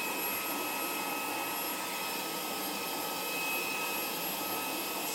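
Xiaomi mini handheld vacuum cleaner runs steadily close by, a constant airy rushing whoosh with a thin high whine, no pauses.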